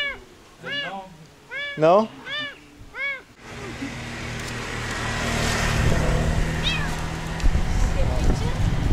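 A street cat in Indonesia meows repeatedly in short, rising calls over the first few seconds, with a brief exchange of talk between people, then a steady wash of passing road traffic and engine noise takes over, with one faint later meow.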